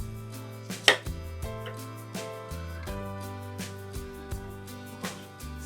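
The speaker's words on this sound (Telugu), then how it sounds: "పచ్చిమిర్చిని ఇలా నిలువుగా కట్ చేసుకోవాలండి" A knife slices green chillies lengthwise on a board, giving a run of sharp, fairly quiet taps at a steady pace, one louder knock near the start, with a low hum underneath and no voices.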